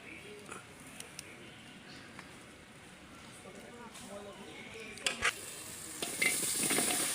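Meat frying in a pan gives a low sizzle with stirring, then broth is poured in and the hissing swells louder and brighter near the end, with a voice talking over it.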